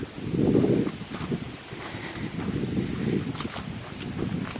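Gusting wind moving through an autumn forest path, rustling leaves in a steady wash with a stronger surge near the start, then a continuous breezy rush with no talking.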